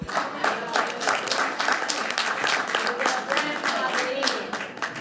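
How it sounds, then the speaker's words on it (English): An audience at a leadership conference town hall applauds, a burst of brisk, fairly close clapping with voices mixed in that holds steady and then tapers slightly toward the end. "Can I get an applaud?"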